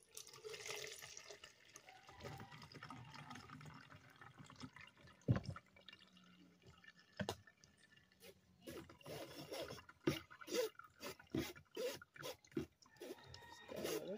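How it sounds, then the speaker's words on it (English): Homemade Jamaican pumpkin punch is strained into a juice jug, giving trickling, dripping liquid with scattered clinks and knocks, a sharp bump near the middle, and busier pouring and tapping in the second half. "Straining now with juice jug."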